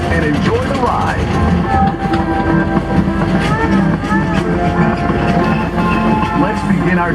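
A tourist train rolls through the Dole Plantation on Oahu, a steady loud rumble with clacking wheels and squeaky metallic tones, while a voice talks over it.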